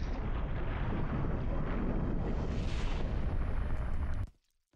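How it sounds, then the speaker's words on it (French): Nuclear bomb explosion in a coding-themed animation: a loud, sustained roaring blast fills several seconds before cutting abruptly to silence. "Ah oui, sacré bombe nucléaire."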